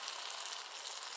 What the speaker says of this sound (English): And I'm just going to keep stirring.